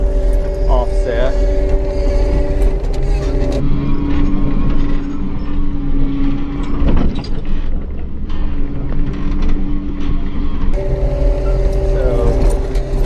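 A CAT 285 compact track loader with redesigned undercarriage and suspension drives over offset bumps, its engine droning steadily with clanking, creaking mechanical jolts, close up, while a person talks over it.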